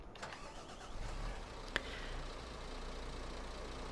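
A wheel loader's engine starting in Farming Simulator 22, a cranking burst followed by a steady, moderately loud mechanical hum with a sharp click partway through.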